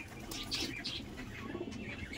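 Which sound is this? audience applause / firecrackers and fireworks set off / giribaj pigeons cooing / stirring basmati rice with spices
giribaj pigeons cooing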